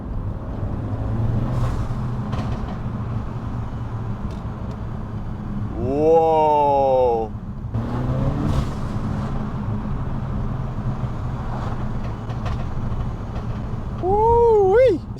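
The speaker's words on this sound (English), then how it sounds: "Oh my god, you can hear the turbo go." Peugeot 308 GTi engine with its turbo breathing through a custom induction kit, a steady drone with rising whistling spool sweeps and surging revs, recorded from inside the car while a person exclaims.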